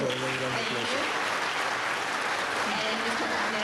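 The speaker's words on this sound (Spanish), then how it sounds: "vamos a dar la gracia otra vez, a dar un gran aplauso" Sustained applause from an audience at a city council meeting fills the room, a steady dense wash of clapping over the whole moment, with a voice briefly audible at the start.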